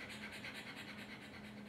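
A person pants rhythmically as a core-engaging breathing exercise, quick shallow breaths repeating steadily and close to the microphone, with no other sound around them.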